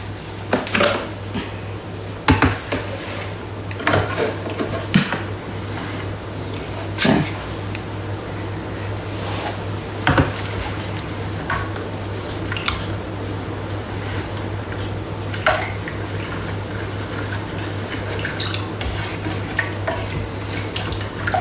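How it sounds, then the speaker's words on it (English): A spatula scrapes and stirs risotto in a Thermomix bowl, lifting rice off the base, with repeated soft knocks and scrapes over a steady low machine hum throughout. "we're going to mix that well with the spatula"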